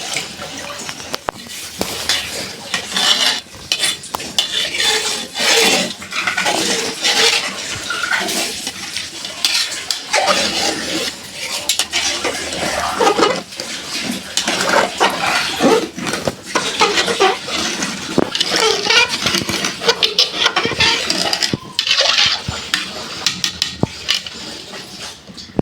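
A spoon stirs rice and meat for biryani in a small, overfull cooking pot, producing continuous scraping and clinking of metal against the pot with faint sizzling and no talk.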